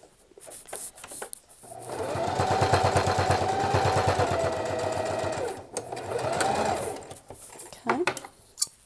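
A sewing machine stitches a folded fabric face mask with a rubber band sewn in, a fast, steady mechanical chatter in two close runs separated by a short pause. Someone speaks briefly around the stitching.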